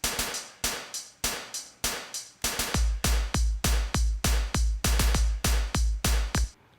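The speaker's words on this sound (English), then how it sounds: "it's kind of like a synth loop that I grabbed from Nexus that just goes" Industrial drum beat with a chopped Nexus synth loop, sharp rhythmic hits repeating evenly before a booming kick enters partway through and drives the pattern, loud and close with no voices.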